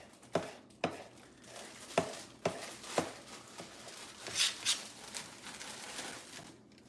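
A knife chops through cabbage on a board in a home kitchen, giving sharp, separate thuds at an uneven pace, with softer scraping and clatter between the cuts.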